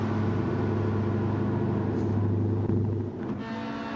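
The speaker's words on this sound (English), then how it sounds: "There's the SLR car in case you wanted to see it. Looks pretty. Sounds good too." A steady, loud engine drone from the SLR race car in the GT Champions racing game, holding a constant tone for most of the clip before dipping slightly near the end, with no talk.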